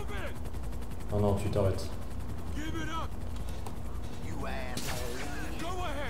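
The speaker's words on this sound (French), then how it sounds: "Ouch, on s'est pris une balle." A gunshot strikes a police car during a GTA 5 patrol, amid bursts of game gunfire with sharp transients and a louder cluster around one second; someone speaks French briefly over it.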